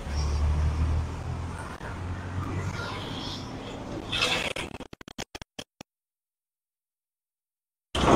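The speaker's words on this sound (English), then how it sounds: "Guys, more traffic there, yeah." Busy expressway traffic: a continuous low roar of passing vehicles with a swelling hiss as one rushes by, then a burst of clicks before the sound cuts out to silence and briefly returns.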